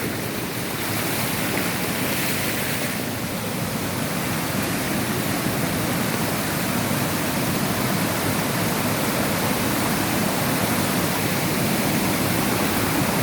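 Heavy rain and floodwater rushing over flooded ground make a loud, steady, unbroken roar of broadband noise throughout, with no voices.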